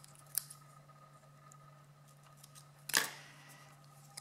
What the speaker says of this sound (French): Je recoupe pour pas que le ruban déborde.